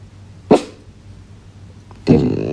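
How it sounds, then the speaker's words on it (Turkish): A small dog gives two sharp barks early in the morning, the first short and the second longer and trailing off, close by and loud with a quiet gap between them. "Bence sabahın köründe havlamayı artık bırakman gerek."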